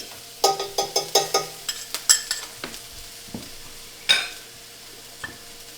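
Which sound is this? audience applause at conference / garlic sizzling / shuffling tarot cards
garlic sizzling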